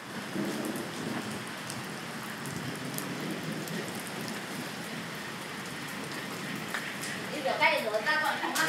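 Steady rain pours down in a continuous hiss across the whole stretch, fairly even and close, with people talking faintly underneath and a brief rattle of something near the end.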